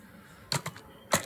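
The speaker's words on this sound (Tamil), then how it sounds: "இப்போ நான் டைப் பண்ண ஆரம்பிக்கிறேன்." Two sharp clacks of keys striking on a computer keyboard, close and crisp, with a pause between them and no voices.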